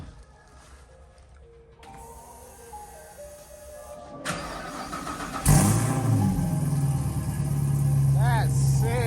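A V8 muscle car, a 1965 Ford Mustang or a Camaro, cranks, catches and settles into a running rumble that grows louder and rougher toward the end, with people talking nearby.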